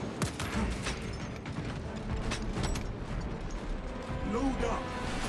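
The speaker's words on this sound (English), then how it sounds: "Reload." A heavy bolter reloads in Space Marine, with rattling, clicking metal mechanisms and scattered gunfire beneath a dense wash of battle noise that keeps up throughout.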